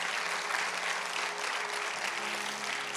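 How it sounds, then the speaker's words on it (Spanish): A church congregation gives a dense, steady round of applause that holds at an even level from start to finish, with no voice rising above it. "Dale un aplauso a Jesús, porque Él es bueno."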